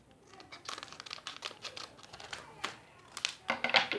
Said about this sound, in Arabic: الحين بنفتح الأكياس.